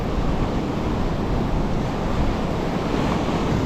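Rough surf pounds a Rhode Island shoreline in foul weather, a loud, steady roar of breaking waves mixed with wind buffeting the microphone.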